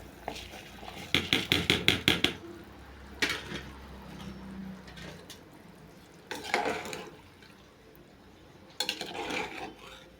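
Rice stirred into boiling water in a pot, with bursts of quick scraping and clinking strokes between quieter stretches of bubbling, fairly soft and close.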